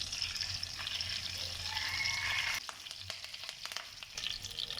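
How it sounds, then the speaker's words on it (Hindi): Whole cumin seeds fry in hot oil in a pan, making a steady, gentle sizzle with light crackling. A faint scrape of stirring joins partway through. "और आधा चाय का चम्मच इसमें साबुत जीरा शामिल कर देंगे। इन दोनों को थोड़ा सा फ्राई करेंगे।"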